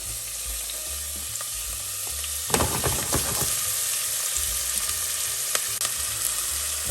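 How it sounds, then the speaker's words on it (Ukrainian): Onion frying in hot sunflower oil in a saucepan gives a steady, close sizzle, with a burst of stirring scrapes and clatter partway through. No one speaks. "налили туди соняшникову олію і можемо вже починати обсмажувати наші овочі. Першим ділом цибулю."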